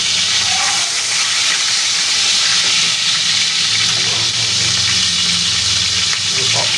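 Chicken pieces fry in hot oil with a steady, loud, dense sizzle and crackle that fills the whole stretch without letup.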